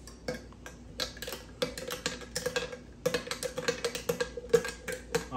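A metal spoon stirring food in a bowl, a string of light, irregular clinks and taps close by in a quiet room.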